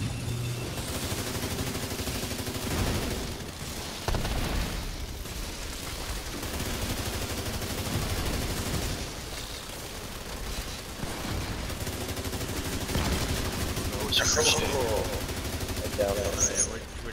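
Video game gunfire: long stretches of continuous automatic fire and scattered bursts rattle throughout, moderately loud, with players talking over the shooting now and then.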